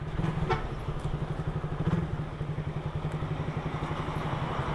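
A carbureted Suzuki Raider 150 motorcycle engine runs close by with a steady, fast, throbbing low pulse, the rhythm holding even throughout and no one speaking.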